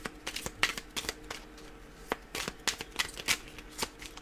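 Small tarot cards being shuffled by hand close by, a quiet series of crisp riffling flicks and taps at an uneven pace, with no talking.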